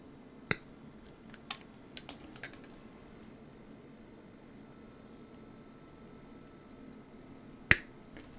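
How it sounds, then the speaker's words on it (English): Pieces of 3D printer filament snipped at an angle beside a small Teflon tube, giving a few sharp, isolated clicks spaced irregularly, with one louder snap near the end over a quiet room background. "You want to cut each of these at an angle."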